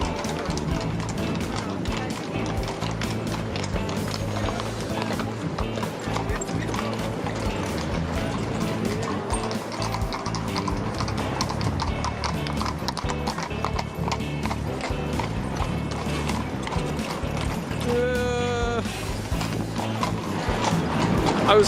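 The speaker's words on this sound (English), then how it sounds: "Outside of the Hofburg, I was lucky to survive a stampede of horses." Horses' hooves clip-clop steadily outside the Hofburg Palace in Vienna, a busy continuous clatter of many hooves on pavement with an occasional whinny and street noise around it.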